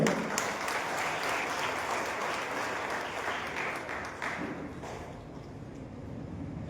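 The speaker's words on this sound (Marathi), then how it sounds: "तुम्ही एकदा जोरदार टाळ्या वाजवा सगळेच" Steady, dense applause from a crowd at a state-level literary award ceremony in Barshi, sustained and fairly loud throughout with no speech over it.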